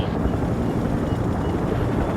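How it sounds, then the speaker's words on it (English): A steady, loud rotor drone rumbles without a break, a medium helicopter in a video game holding close and constant throughout. "Medium helicopter is on the way."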